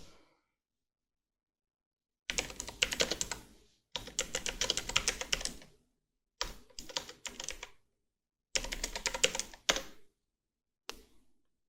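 Bursts of rapid key clicks on a computer keyboard, heard close and quiet, separated by brief silent pauses.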